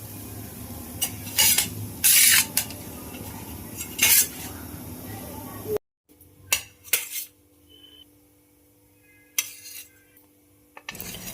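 A metal utensil scrapes and clinks against a hot pan as crisp thalipeeth flatbreads for a fasting recipe are lifted off, several loud close bursts, then a pause and a few sharper taps.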